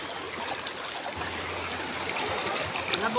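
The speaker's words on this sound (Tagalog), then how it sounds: "Dito kami ngayon guys, naliligo sa ilog." River water flows with a steady close rushing and light trickling where people bathe, continuous and moderately loud with no talk.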